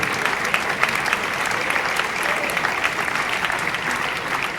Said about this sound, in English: I have no idea why you're clapping for me